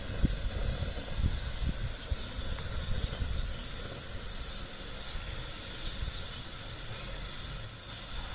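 Urad dal bonda batter frying in hot oil, a steady, dense hiss and crackle of bubbling that continues evenly throughout at moderate loudness.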